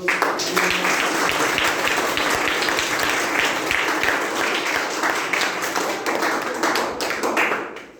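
Students in a classroom children's assembly clap loudly together, a dense, continuous crowd of claps that holds steady for several seconds and thins slightly at the end, with a faint voice underneath.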